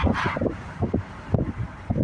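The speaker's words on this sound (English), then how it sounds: "I know it's a bit windy." Wind buffets a microphone outdoors along a forest canopy road, a low rumbling whoosh with brief gusty bursts, fairly close and moderate in level.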